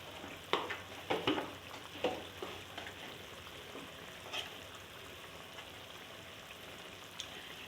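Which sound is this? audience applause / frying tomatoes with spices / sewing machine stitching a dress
frying tomatoes with spices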